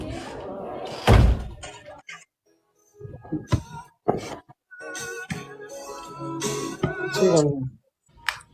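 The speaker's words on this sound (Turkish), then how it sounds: "Ya örtsene kapıyı lütfen." A door swings shut with a single loud, close slam early on, and people talk nearby before and after it.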